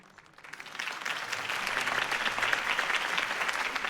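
A crowd in the Batman Telltale Series video game bursts into applause after Harvey Dent's campaign speech, swelling quickly from quiet into a steady, dense roar of clapping.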